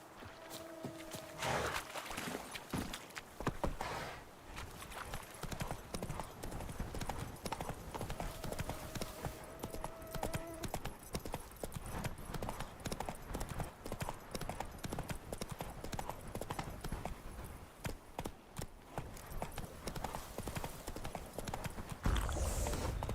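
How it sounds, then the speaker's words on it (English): Horse hooves clip-clop steadily in The Witcher 3, a continuous rhythmic trot that runs loud and close for the whole stretch, with a brief whinny-like tone early on and no talk over it. "Come on, horse."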